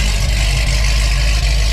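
A C6 Grand Sport Corvette fitted with Speed Engineering 2-inch longtube headers idles with the exhaust open, a loud, deep, steady rumble that fills the short stretch without any talking.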